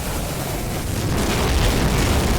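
A loud, broad roaring blast from a video game explosion that swells and rumbles on, filling the whole short stretch.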